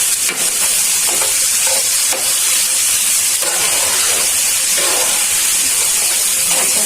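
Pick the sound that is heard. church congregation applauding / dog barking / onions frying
onions frying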